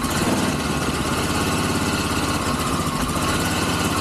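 An ATV quad engine idles steadily in cold snowy conditions, a loud, close, continuous rough putter with no pauses.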